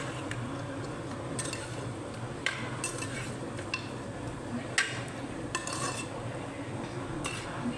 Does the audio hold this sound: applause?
no